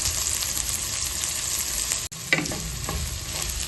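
Ginger drops into hot oil with browned onion and garlic and fries in a steady loud sizzle, with a brief clatter of stirring partway through.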